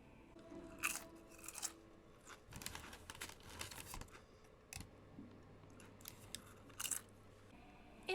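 Someone eating chips and salsa: scattered close crunches and chewing noises, fairly quiet, with a low hum and faint background sounds between the bites.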